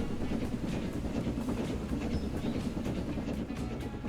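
A steam train from the video game Transport Fever 2, an early Edwardian-era locomotive being fired hard on coal, gives a continuous heavy rumble with faint rhythmic clatter, steady and loud with no speech.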